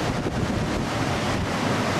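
Steady broadband roar of sea waves and surf on the Tunisian coast, with wind buffeting the microphone throughout; continuous and fairly loud, no voices.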